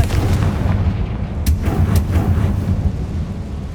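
A Confringo fire spell blast in the Hogwarts Legacy video game, heard as a deep booming explosion with a rumbling low roar and a couple of sharp cracks, loud and continuous throughout.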